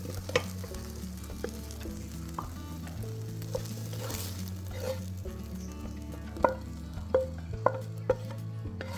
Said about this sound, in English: Then I'm going to cook my ground beef mince.